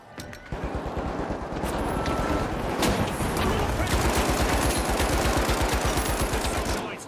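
Rapid automatic gunfire in the shooter game The Finals, a dense, loud stream of bursts lasting several seconds with a voice briefly speaking over it.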